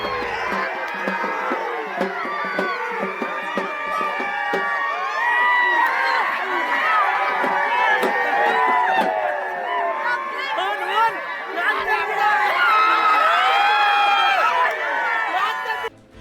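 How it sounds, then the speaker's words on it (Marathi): Crowd celebrating a local election victory in Solapur, Maharashtra, with continuous loud cheering and shouting voices, a dense festive din that swells midway and holds to the end. "दंड थोपटत जल्लोष साजरा केलाय"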